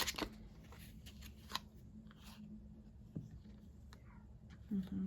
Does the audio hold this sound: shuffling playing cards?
yes